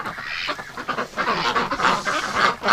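Wintering ducks and geese crowded in a straw-bedded pen keep up continuous loud quacking and honking, many overlapping calls close by.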